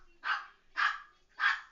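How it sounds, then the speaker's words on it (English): Three evenly spaced barks from a dog in quick succession, clear and fairly close, with near silence between them. "sorry about the barking."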